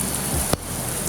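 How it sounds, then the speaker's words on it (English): Rain falls on a city street in a steady hiss, with one sharp close tap midway. "it started raining, as you probably can see"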